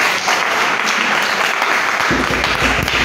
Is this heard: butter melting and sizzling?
no